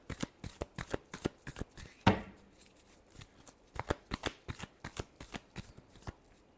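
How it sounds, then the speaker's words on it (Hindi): Tarot cards are shuffled close by in quick, rhythmic riffles and taps, with one louder slap partway through and no voice. "last shuffle"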